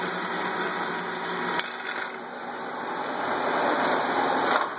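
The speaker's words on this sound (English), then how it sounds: "Now we will kick the feed out and put the feed in reverse using the rapid traverse lever." Kearney & Trecker 2CH milling machine running its rapid traverse in reverse after power feed drilling: a steady mechanical whir and hum with a brief clunk as the lever engages, continuing close and moderately loud.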